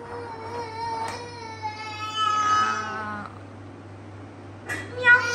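A hungry pet cat meowing indoors at home, a few drawn-out meows close by, with someone talking and imitating the meow in between.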